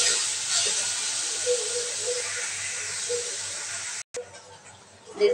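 Masala with reddened onions, salt and turmeric sizzles steadily in a hot pan for a bitter gourd dish, a continuous loud hiss that cuts out for a brief moment near the end.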